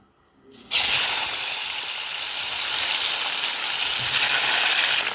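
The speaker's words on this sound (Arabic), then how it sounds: "فانا هنايا راني حنطيب فيها البطاطا مقليه" Potatoes frying in hot oil, a sudden loud sizzle that bursts in after a moment of quiet and keeps hissing steadily and close.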